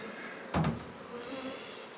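A single honeybee at a pre-winter apiary buzzes briefly past, close and loud for a moment, over steady outdoor background noise.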